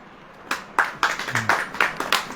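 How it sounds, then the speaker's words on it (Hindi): A church congregation claps along during worship, a series of sharp, roughly rhythmic hand claps that start after a short pause and continue steadily, moderately near, with no talking over them. "ये ताली किस लिए बज रही मालूम?"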